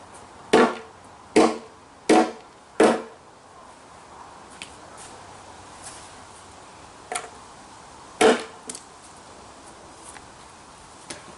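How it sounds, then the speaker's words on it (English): An object is smashed with four loud, evenly spaced blows, then fainter scattered knocks and one more heavy strike, each impact sharp and close against a quiet background. "that's enough smashing for today"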